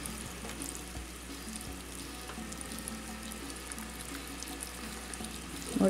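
Beef steak cooking in a small clay pot with chile and tomato, giving a steady, even sizzle and bubbling that continues unbroken with no talk.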